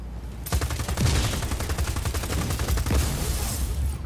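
Rapid continuous gunfire aimed at a generator panel in Just Cause, a close, loud rattling volley of shots sustained for several seconds.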